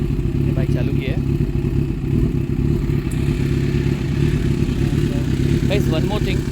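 A Kawasaki Z900 motorcycle fitted with an aftermarket exhaust idles nearby with a loud, deep, throbbing rumble, steady and uneven-pulsed, with light mechanical clatter on top.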